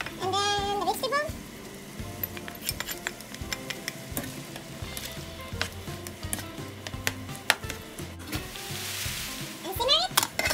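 Shrimp fried rice sizzling and frying in a pan, a continuous close hiss with clinks and scrapes of stirring throughout, and a voice speaking over the cooking.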